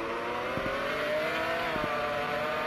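A V12 race car engine accelerating in the Roblox game Taxi Boss: a loud, continuous engine drone with pitch climbing steadily, briefly dipping at a gear change, then rising again.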